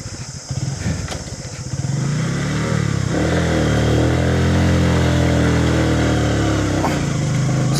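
Bajaj Pulsar motorcycle engine on a road trip in Karnataka, loud and close, revving up through a gear change with rising then steady drone, a brief dip near the end before picking up again.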